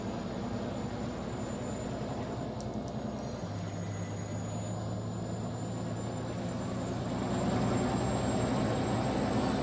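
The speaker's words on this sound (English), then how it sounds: "But you can hear the turbos really spool up." Engine drone of a Mack truck in Farming Simulator 19, a steady low rumble that steps up in pitch partway through with a rising turbo whine and a louder surge near the end, alone without talk.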